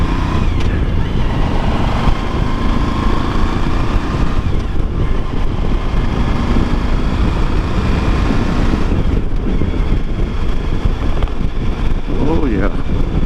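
A Suzuki V-Strom adventure motorcycle accelerates on the road, its engine drone buried under constant loud wind rush and road roar from a helmet-level perspective, with a voice speaking over the noise.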